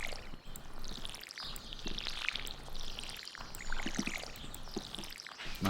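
Watering can being refilled from water in the Stardew Valley farming game: a continuous splashing, bubbling pour lasting several seconds at moderate level, with no talk over it.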